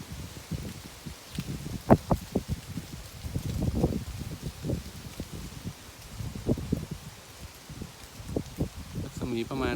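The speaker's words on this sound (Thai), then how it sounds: "เป็นลมบ้าหมู" A whirlwind whips across a rice field in gusty, rustling bursts as debris and leaves are tossed about, with wind buffeting the microphone and voices talking throughout.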